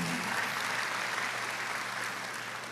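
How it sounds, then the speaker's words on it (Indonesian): Church congregation applauding at a Bethany Indonesia service, a dense, even wash of many hands clapping heard at a distance for a few seconds and gradually fading. "Tepuk tangan, tepuk tangan."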